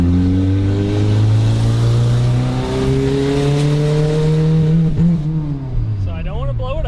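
A Toyota MR2 with a swapped K24 engine drones and climbs in pitch as it accelerates down the road, then eases off and revs again, heard from inside the car while people talk excitedly.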